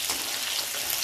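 Onions and Malabar spinach stems fry in a pan, giving a steady, dense hiss of sizzling oil that holds even and close throughout with no talk.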